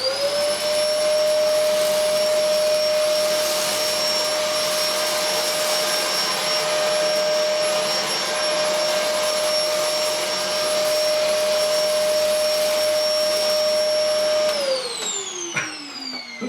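Electrolux Sanitaire upright vacuum cleaner running on suction only over a hard floor, a loud steady whine with a high motor tone that holds for about fourteen seconds, then drops in pitch as the motor spins down.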